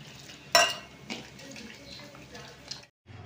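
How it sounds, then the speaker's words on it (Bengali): A bowl of batter with salt, chilli powder, turmeric, a little sugar and water is stirred, giving a sharp clatter of utensil against the bowl early on, then softer wet scraping and mixing before a brief pause. "জল দিয়ে ভালো করে ব্যাটারটাকে তৈরি করে নেব"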